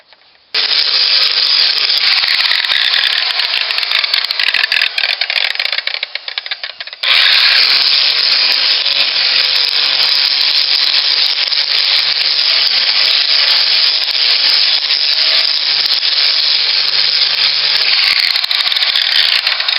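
A power sander runs at high speed, grinding material off the wood of a Santana 20 sailboat cabin. The steady, loud abrasive whir continues almost the whole time, with a brief drop near the middle before resuming alone without talk.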